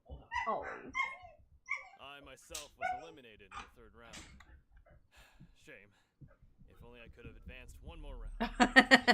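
A dog barks in the room, with several quick, loud barks near the end after a stretch of speech.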